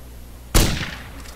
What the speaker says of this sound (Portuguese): Tiro. Eu atirei no zumbi.